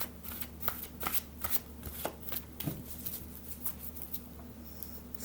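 Tarot cards being shuffled by hand, a steady run of soft riffling flutters and papery slaps repeating alone and up close, with no talking.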